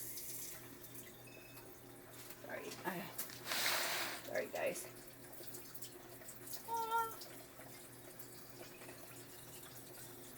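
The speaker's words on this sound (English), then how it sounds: "This happened to be tonic water, but I'm going to fill that with water." Tap water runs into a glass tonic water bottle as it is refilled at a kitchen sink, a steady close splashing stream that rises and shifts in pitch, with a brief spoken apology over it.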